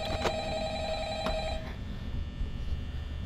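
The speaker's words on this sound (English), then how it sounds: "Comment down below if you guys want to hear the phone calls" A telephone in the video game Five Nights at Freddy's rings twice in short, sharp bursts, then fades into a low background hum.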